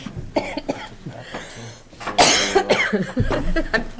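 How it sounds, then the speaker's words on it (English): A few sharp coughs close by, with a louder burst of coughing in the middle and some muffled movement around them. "I'm coughing into my sweater."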